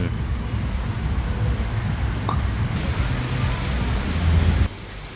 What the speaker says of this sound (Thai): ฟังเสียงคลื่น